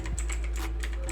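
Quick typing on a computer keyboard, a rapid run of close, crisp key clicks at an even pace over a steady low hum.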